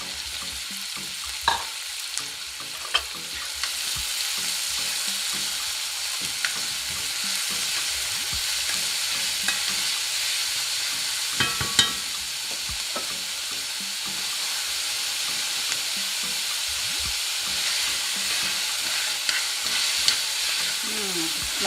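Chopped red onions fry in a tablespoon of olive oil in an orange skillet, a loud steady sizzle and hiss running throughout, broken by occasional sharp clicks and stirring scrapes, no speech.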